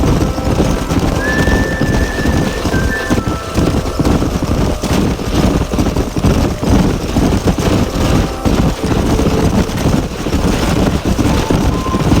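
Horse hooves in the video game Red Dead Redemption clip-clop in a fast steady rhythm, with occasional neighing over a constant outdoor background, loud and close.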